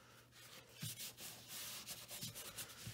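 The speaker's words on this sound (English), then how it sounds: "And then just burnish it down." Paper burnished down by hand on an envelope-pocket music folio, giving soft, faint, irregular rubbing and scuffing strokes close by, with light taps between them.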